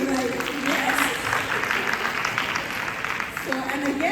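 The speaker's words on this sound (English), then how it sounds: "Big applause for that" An audience applauds in a room, a moderate wash of clapping running throughout. A voice talks over it at the start and again near the end.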